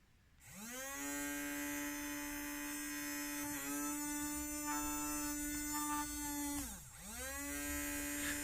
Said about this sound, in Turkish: Kondansatörsüz motoru tekrar dinleteyim.